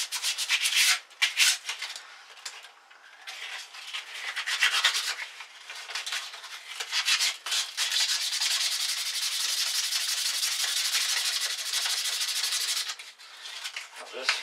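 A bicycle bar end is rubbed with 150 grit sandpaper in close, bursty hand strokes that build into a steady hiss of continuous sanding, with short pauses between passes.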